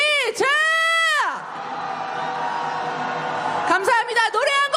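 A crowd at a candlelight rally cheers and shouts in a loud, sustained roar, framed by a single amplified voice calling out strongly before and after the swell of noise.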